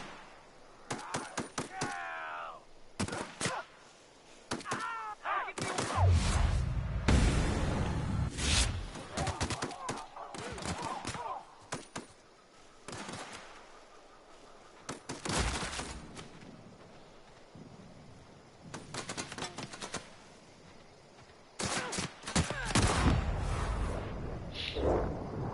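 Rapid volleys of gunfire and impacts from a firefight in The Outer Worlds on PS4, coming in dense bursts and clusters with occasional whooshes, as a person talks at times between shots.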